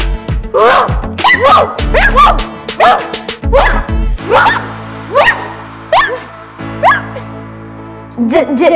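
A dog barks in a children's English lesson, giving a run of sharp, loud bow-wows and yips spaced irregularly, several in quick bursts and then a few single barks with gaps between them.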